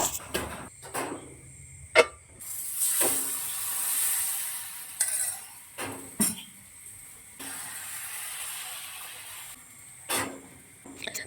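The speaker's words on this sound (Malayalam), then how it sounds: "സവാള ഒന്ന് ചെറുതായിട്ടൊന്ന് വഴണ്ട് വരട്ടെ" Onion softens in oil in a home kitchen, a light sizzle broken by repeated sharp spatula clacks and scrapes against the pan, coming in uneven bursts with quieter gaps between.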